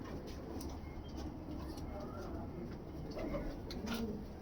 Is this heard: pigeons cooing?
yes